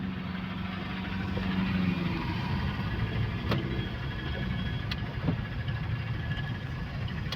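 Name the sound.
car and traffic sounds heard from inside a car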